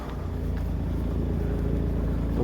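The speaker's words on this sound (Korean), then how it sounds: "또 트럭 한 대가 막 따라오네요" A truck rolls along a road with a steady, loud low engine rumble and tire noise that holds constant throughout, close by.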